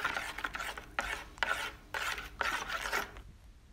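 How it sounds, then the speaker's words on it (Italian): Focaccia dough of water, sourdough starter, salt and honey stirred in a bowl, four rhythmic rasping strokes close by, each a scraping sweep with brief pauses, no talking. "diamo una mescolata"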